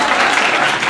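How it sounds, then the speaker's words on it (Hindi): A brief, dense burst of audience applause, loud and close, with many hands clapping at once. "वाह ताली बजे।"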